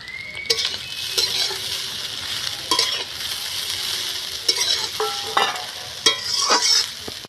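Prawns sizzle loudly in a hot wok for prawn hakka noodles, a steady frying hiss broken by repeated clanks and scrapes of a spatula stirring, all close up with no talking.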